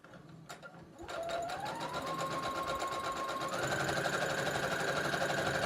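A sewing machine runs a continuous stitching seam along a beach tote bag, its steady mechanical whir starting after a second of quiet and holding close and even to the end.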